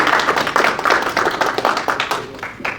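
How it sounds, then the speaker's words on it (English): An audience claps together at the close of a college savings seminar, giving a dense, even patter of many hands that carries on steadily and close throughout. "I think we give it a round of applause."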